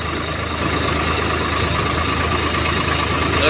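A tractor engine idles steadily and low, continuously at close range, a constant rumble with no change in pace and no voices.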